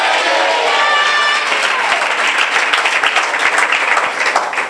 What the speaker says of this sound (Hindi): जोरदार तालियां बजाएंगे हमारे प्रभु।